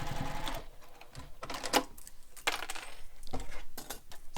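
A sewing machine bastes the lining of a Manhattan bag along its raw edges, running in short clattering bursts with brief pauses and metallic ticks between stitches, close and moderately loud with no talking.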